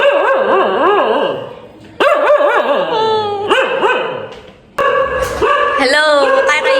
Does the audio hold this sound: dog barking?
yes